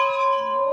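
A bright, clear bell rings with a sustained metallic tone, steady and close, lasting under a second.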